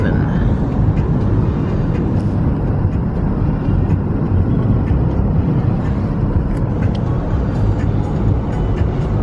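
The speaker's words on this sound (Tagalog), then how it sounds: "ang laki ng airplano ka-zoom natin ayun" A large airplane passes overhead near a Canadian highway, and its steady, loud roar blends with close road and car noise throughout.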